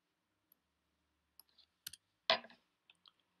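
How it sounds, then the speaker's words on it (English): Several small, crisp computer mouse clicks, isolated and spaced irregularly against near silence, one slightly louder double click in the middle. "Then I'll click next."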